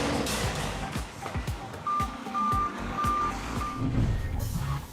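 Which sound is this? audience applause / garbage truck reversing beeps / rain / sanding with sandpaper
garbage truck reversing beeps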